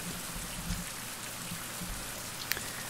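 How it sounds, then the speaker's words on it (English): Steady rain hisses down in a survival video game, a dense even wash of drops with a few sharper splats, filling the scene without any voices. "Yeah, the rain's back."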